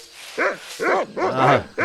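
Cartoon dog in the Monkey Island 2 video game barking four times in a steady rhythm, loud and close, with short gaps between each bark and no talk over it.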